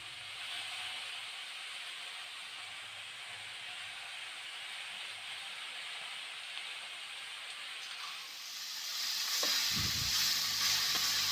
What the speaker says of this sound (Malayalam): നേരത്തെ അരിഞ്ഞു വെച്ച ചീര ഇതിലേക്ക് ഇട്ട് കൊടുക്കാം